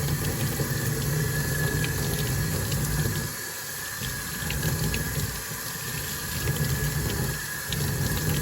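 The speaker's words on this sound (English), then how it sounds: "You just really want to rinse it good" A tie-dyed shirt is rinsed under running tap water, giving a steady, full rush of splashing water that dips slightly midway and continues throughout, with no voices.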